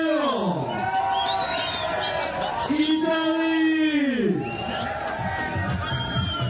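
Crowd at a Brazil vs Italy women's doubles beach tennis gold medal match, cheering and chanting in rising and falling swells, with loud voices shouting over the noise.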